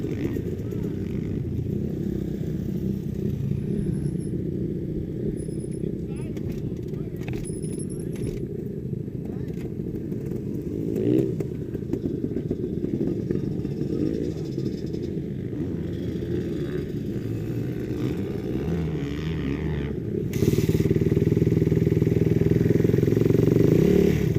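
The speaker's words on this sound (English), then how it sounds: "You're gonna have to try and dump the clutch and pop that wheel up to get up on that next tire." A trials motorcycle engine runs throughout at a rough idle with blips of revving while the rider tries to pop the front wheel up onto a tire, with a voice coaching over it and a louder surge near the end.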